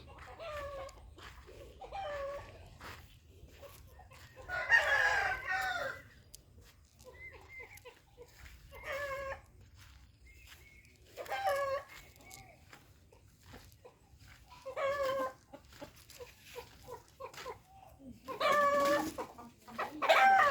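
Chickens cluck in repeated bursts on a mango farm, with a rooster crowing loudly now and then, over a steady low background hum.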